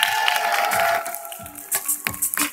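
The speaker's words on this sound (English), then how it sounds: "The Miss Body Fitness, welcome, applause please" Audience applause and cheering greet Miss Body Fitness competitors at a 2015 contest in Nivelles, Belgium. The clapping is dense and steady at first, then thins into scattered claps and short bursts toward the end.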